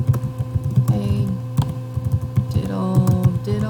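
Rapid typing on a computer keyboard while a text-entry question is composed, with dense, irregular clicks close up over a low hum.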